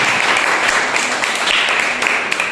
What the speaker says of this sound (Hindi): ओके, जोरदार एक ताली बजाइए।